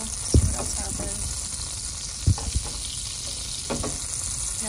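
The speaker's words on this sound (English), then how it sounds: "the heat, the energy underneath the butter is causing the butter to bubble or boil" Butter bubbles and sizzles in a hot pan on a stove, a steady close crackling fry with three dull knocks from the pan along the way.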